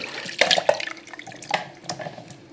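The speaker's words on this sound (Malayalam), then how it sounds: "ഇപ്പോൾ ഇവിടെ വേവിച്ചെടുത്ത ക്യാരറ്റ് ചൂടാറിയതിന് ശേഷം ഇതിലേക്ക് ഒഴിച്ചു കൊടുക്കാം വെള്ളത്തോട് കൂടിയാണ് ഒഴിച്ചു കൊടുക്കുന്നത്" Boiled carrots with their cooking water poured into a blender jar for carrot juice, giving a few short splashy liquid bursts and drips close by, with no talking.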